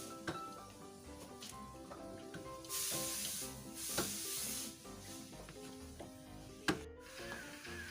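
Bursts of hissing spray from a sprayer used against Covid, two or three short sprays over a quiet background with clinking and scattered sounds around them.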